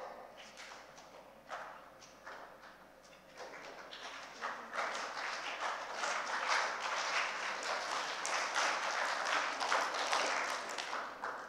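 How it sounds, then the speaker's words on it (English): Audience members in a design conference hall pass claps along from person to person, building from scattered single claps into steady, fairly faint crowd clapping with no talk. "person right next to you clapping behind your back, you clap"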